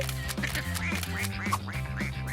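Young ducklings quack over and over in a quick, uneven chatter of high calls. Several birds sound close and fairly loud, with no talking.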